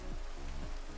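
Steady patter of rain in the Minecraft video game, a soft, even hiss that stays constant and faint for about a second.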